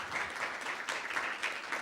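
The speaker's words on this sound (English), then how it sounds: "Round of applause for Professor Franks." Audience applause greeting a professor at a public university debate on AI and copyright, moderate and fairly distant, with clapping that swells in uneven bursts.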